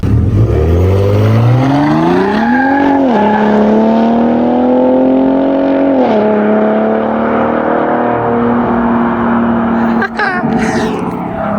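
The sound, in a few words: Ford Raptor truck exhaust in Baja mode accelerating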